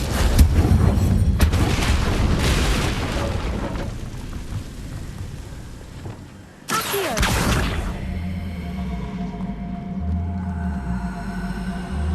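An Incendio fire spell goes off in Hogwarts Legacy with a loud, deep whooshing roar. A sharp burst follows partway through, and then a lower rumble lingers.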